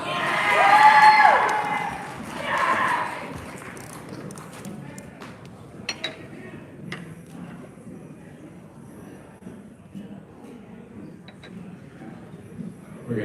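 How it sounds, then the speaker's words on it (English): Audience at a yo-yo competition clapping and cheering for the next competitor, a loud burst of applause and whoops at the start fading over a few seconds into scattered claps and quiet room murmur. "Please give a warm round of applause to Timmy Wan."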